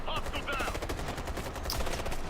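Rapid bursts of automatic gunfire from a Ghost Recon Future Soldier firefight crackle loud and dense, shots overlapping almost continuously through the short stretch.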